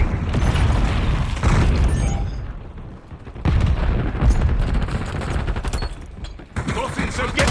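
Flashbang grenade going off in a shooter video game amid continuous gunfire and booms, dense loud bursts of firing that keep rolling with sharp cracks throughout, and voices shouting over the battle.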